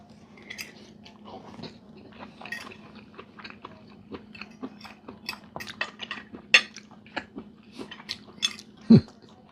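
Someone eating zucchini with onions, peppers and mushrooms, close-up soft chewing and crunching with repeated clinks of cutlery against a plate over a low steady hum, ending in a sharp utensil knock.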